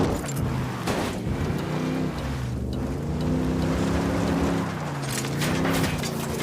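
Engine of a vehicle in Ghost Recon Wildlands drones steadily for several seconds, its pitch rising and falling as it speeds up and eases off, loud and close with a rushing water-like wash behind it.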